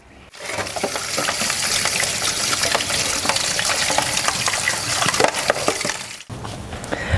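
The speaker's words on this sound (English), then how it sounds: "I'm going to go wash my palettes" Running tap water splashes steadily as a painter rinses paint palettes at a sink, a dense continuous wash with clatter of the palettes, cutting off briefly near the end.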